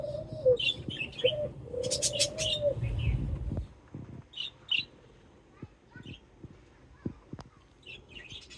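Caged doves, one of them sick, coo softly in a few low rounded calls on a dove farm, with scattered chirps and small rustling knocks in the background.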